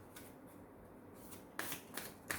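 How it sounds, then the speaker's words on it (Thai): A deck of oracle cards is shuffled by hand up close, a soft riffling rustle with a few sharper flicks and snaps near the end, recorded quietly late at night with no talking. "ไพ่อราเคนลนะ4ใบเป็นยังไงบ้าง ไม่ได้สับไว้ขออนุญาตสับสดนะครับ"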